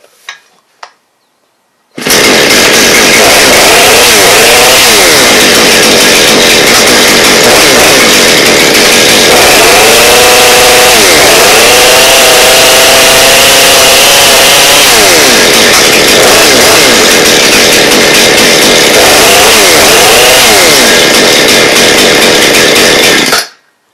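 A Husqvarna chainsaw, just repaired for a blade brake that would not engage, starts on choke after a couple of faint pulls and runs loud and steady for about twenty seconds, its engine pitch rising and falling with throttle blips.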